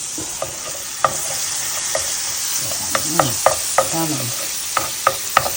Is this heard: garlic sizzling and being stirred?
yes